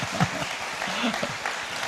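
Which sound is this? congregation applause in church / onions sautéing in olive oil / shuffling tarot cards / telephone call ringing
congregation applause in church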